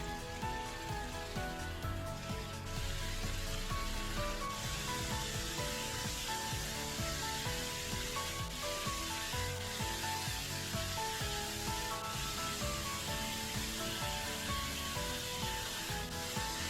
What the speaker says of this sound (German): Abschließend noch etwas Olivenöl in einer Pfanne erhitzen und unsere Hähnchenrouladen von beiden Seiten goldbraun anbraten.